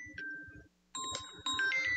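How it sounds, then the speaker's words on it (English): A phone ringtone plays a short electronic melody of bright repeating tones, clear and close, with a brief pause before it resumes, no voices. "Phone call."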